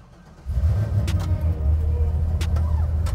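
A GMC truck with a swapped LS1 5.7 litre V8 starts up and settles into a deep, steady idle nearby, with a few sharp clicks and knocks over the low rumble.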